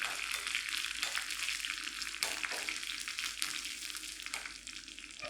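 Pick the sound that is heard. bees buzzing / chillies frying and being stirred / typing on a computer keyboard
chillies frying and being stirred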